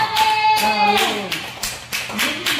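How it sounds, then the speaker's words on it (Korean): A church congregation applauds during a Sunday worship service. The rhythmic clapping is close and fairly loud, and sustained voices and tones sound through it. "하나님 앞에 감사의 영광의 박수 올려드립시다."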